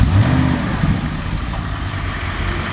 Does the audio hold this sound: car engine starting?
yes